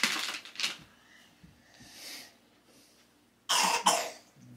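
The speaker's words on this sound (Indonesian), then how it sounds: "Semuanya pada batuk." Several people cough in a burst at the start, then again loudly near the end, with quieter throat sounds in between, fairly close in a casual indoor setting.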